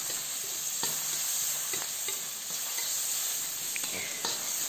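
Chopped tomatoes frying in a pan after onion and garlic, giving a steady, close hiss of sizzling with a few light taps and stirs scattered through it.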